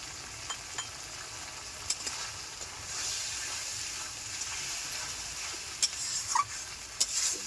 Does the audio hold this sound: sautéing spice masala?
yes